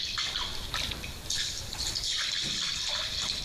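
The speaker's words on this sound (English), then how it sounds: "You can hear them splishing and splashing" At a waterhole, white rhinos splash in the water, producing soft broad sloshing and dripping under a hissy outdoor background, faint and with no voices.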